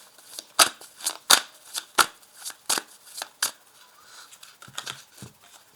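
Oracle cards are shuffled by hand close to the listener, giving irregular crisp riffling and snapping bursts. The bursts are loud at first, then grow softer and more scattered.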